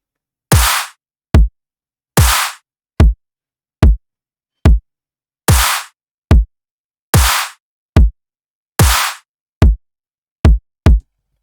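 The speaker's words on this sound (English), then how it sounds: "So I'm gonna just solo drums real quick. It's just a basic drums" A basic soloed electronic drum loop: punchy kicks and short snare or clap hits repeating in a steady pattern with silence between hits, dry and close, no talking.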